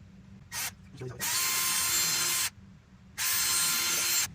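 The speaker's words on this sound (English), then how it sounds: "so to drill these out, I'm just going to use a 5/32 drill bit here" A power drill with a 5/32 bit whirs in two sustained bursts after a brief start, drilling screw holes for a spring-loaded door hinge, steady high-pitched grinding with short pauses between, close up.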